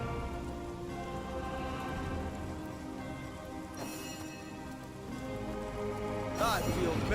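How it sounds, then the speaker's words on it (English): Steady rain falls in Divinity: Original Sin, a continuous even hiss of drops that fills the scene, with a brief brighter splash partway through and a rising burst near the end. "I don't know if rain will take care of the smoke,"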